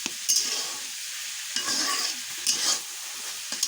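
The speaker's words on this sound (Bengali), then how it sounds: "আম্মু এখন নাড়াচাড়া করবে" Leafy greens (shak) frying in a pan, stirred in several short scraping strokes over a soft continuous sizzle, close and fairly loud, with no voices.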